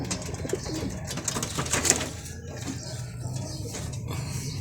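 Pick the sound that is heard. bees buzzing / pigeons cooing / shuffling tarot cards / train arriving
pigeons cooing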